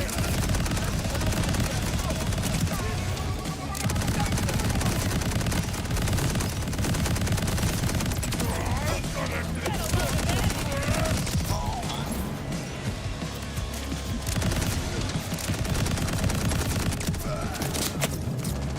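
Rapid automatic gunfire from a weapon with boosted fire rate in the video game Borderlands 4, continuous and loud throughout, layered with crashes, impacts and game effects, with occasional voice underneath.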